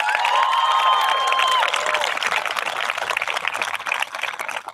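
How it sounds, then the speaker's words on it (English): Big round of applause from a graduation audience for teachers and staff at a charter school ceremony, loud sustained clapping and some cheering from a large crowd, with whistles early on. "Can we get a big round of applause for our teachers and staff members?"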